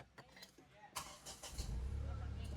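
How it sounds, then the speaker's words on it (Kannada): A Tata Nexon XZ+ fires up from its push button, a short crank catching into a low, steady idle close by, with someone talking over the first part. "ಚಾಲು ಮಾಡಿ ಬಟನ್ ಸ್ಟಾರ್ಟ್ ಐತ್ರಿ."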